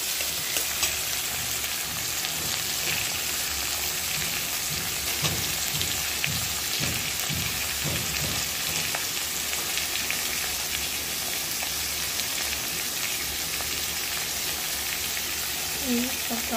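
Tomatoes sizzling in oil with browned onions for a hilsa fish curry, a loud, even hiss that runs on with a few stirring knocks and a voice briefly speaking over it.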